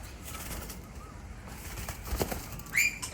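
Rainbow lorikeets and king parrots gathered at a seed feeder flap their wings in brief bursts, with a few soft calls and a sharp chirp near the end against quiet outdoor background.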